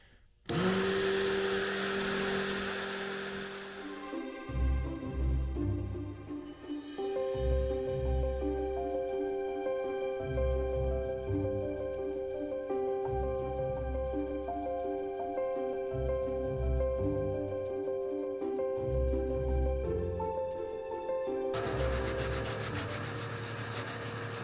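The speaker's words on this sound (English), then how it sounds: "And this is a Dremel tool here." Dremel rotary tool cutting limber holes through a boat's toe rail, with a clamped board guide, on a trawler under restoration; a steady high-pitched whine with a grinding rub runs continuously and loud, the pitch shifting as the bit bites into the wood.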